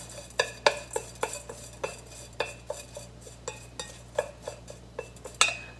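Canned mackerel and sesame seeds being mixed for a donburi, with a spoon or chopsticks clinking and scraping against a bowl in about a dozen light, irregular taps under a steady low hum.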